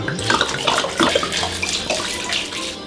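Half a litre of white wine is poured into a pot for mustard-braised beef cheeks, making a steady, close splashing pour that runs for the whole stretch.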